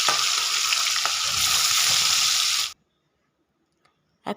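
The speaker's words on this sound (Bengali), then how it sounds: "তেল গরম হয়ে গেছে, এখন এতে মাখিয়ে রাখা মাছ আমি এক একটা করে দিয়ে সবটা দিয়ে ভেজে নেব।" Marinated fish frying in hot mustard oil, a loud, steady sizzle close by that cuts off abruptly partway, leaving near silence with a faint clink before a brief burst of sizzling returns at the end.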